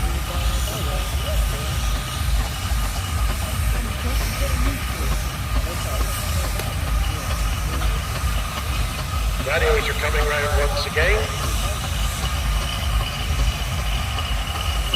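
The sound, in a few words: showman's steam traction engine running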